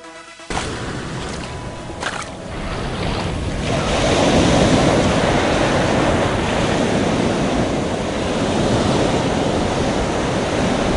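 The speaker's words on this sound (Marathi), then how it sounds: "समुद्राच्या लाटांवर स्वार झालेला हा आहे कौस्तुभ खाडे, भारताचा कयाकिंग पटू." Sea waves around a kayak on a coastal expedition from Kutch toward Kanyakumari, a loud continuous wash of surf and water rushing past, swelling steadily with wind buffeting the microphone, no speech.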